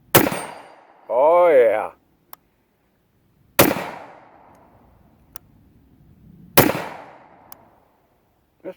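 Three sharp, loud pistol shots from a Jericho 941 9mm fired at small steel targets, spaced a few seconds apart, each with a quick ringing decay; a voice speaks briefly between the first two shots.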